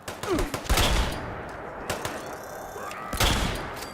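Minigun fire in Fallout 76, heavy bursts of rapid gunfire in a game, with loud blasts near the start, middle and end and a ringing tail between them, no speech over it.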